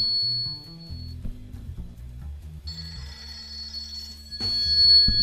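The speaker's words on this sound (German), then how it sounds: "Oh, mein Telefon klingelt." A telephone rings partway through, a bright sustained tone that comes in over ongoing game music and blips, with a louder burst near the end; no one speaks.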